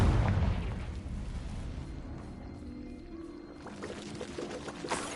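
A Confringo fire spell explodes in the video game Hogwarts Legacy, a heavy booming blast at the start that decays into a long rumbling, crackling tail with scattered debris-like pops.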